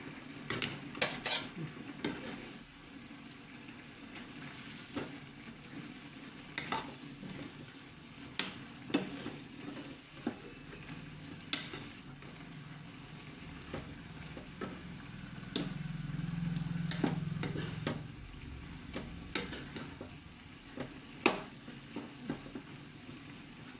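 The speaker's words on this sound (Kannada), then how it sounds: "ಶೇಂಗಾ ಪುಡಿ ಹಾಕಿ ಇದನ್ನು ಸ್ವಲ್ಪ ಗೂರಾಡ್ಸೋಣ" Metal utensil scraping and clinking against a pan at irregular intervals as ground peanut powder is stirred into frying eggplant, with a soft sizzle of frying underneath.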